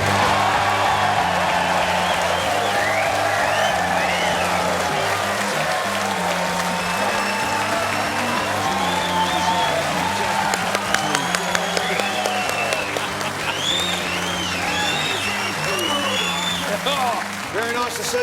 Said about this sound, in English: I want you to keep the applause coming